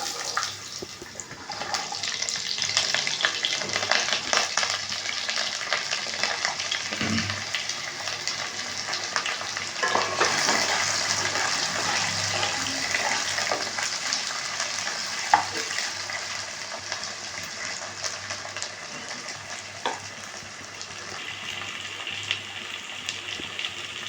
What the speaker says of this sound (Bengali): এবার আলুগুলো দিয়ে দিচ্ছি